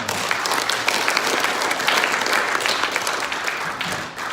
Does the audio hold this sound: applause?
yes